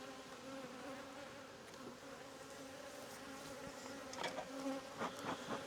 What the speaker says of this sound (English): I swear that first hive is still buzzing me.